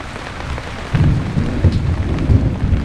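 Rain pours steadily on a rainy day, a dense close hiss of drops on surfaces that grows louder partway through.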